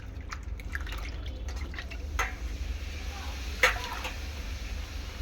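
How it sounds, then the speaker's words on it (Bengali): Bombay duck fish, already cleaned and cut, being washed in water, giving soft intermittent drips and splashes with two sharper splashes, fairly close over a steady low background hum. "তো ভালো করে আমি এখন ধুয়ে নেব মাছটাকে।"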